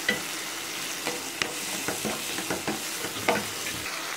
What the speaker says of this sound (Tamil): தக்காளி சாப்பிட்ற வரைக்கும் வதக்கணும்